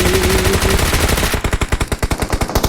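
Rapid automatic bursts of PP-Bizon submachine gun fire in the battle royale game PUBG, loud and close, with a dense sustained stream giving way to distinct evenly spaced shots.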